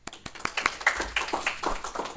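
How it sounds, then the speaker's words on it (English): A small audience at a book festival public reading applauds an author, with scattered, uneven hand claps that grow denser and more overlapping after the first second. "Please give a round of applause for Lindsey."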